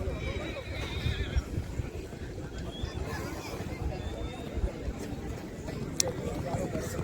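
Horse hooves beating at a horse race in Kutch, Gujarat, an irregular clatter under crowd noise and outdoor wind, with a faint whinny-like tone early and a sharp click near the end.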